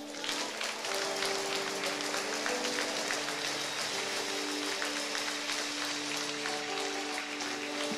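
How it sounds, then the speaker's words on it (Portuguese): Church congregation clapping at a Thursday evening service, a dense, continuous wave of applause that holds steady and loud throughout, with some music underneath. "Todos que creem nisso, aplaudam o Senhor"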